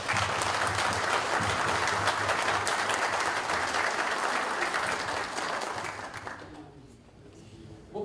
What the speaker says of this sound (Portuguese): eu peço uma salva de palmas agora para nós